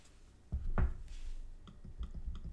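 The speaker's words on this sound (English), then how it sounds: "now it's clicking" An Apple Magic Trackpad 2 on a desk gives several soft, dull clicks spaced irregularly, close and quiet, in an otherwise still room.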